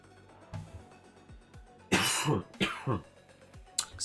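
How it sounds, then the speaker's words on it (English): A man with a lingering cough clears his throat and coughs several times nearby, a few soft throat sounds followed by a cluster of harsh, loud coughs and one last short one. "I can't get rid of this cough."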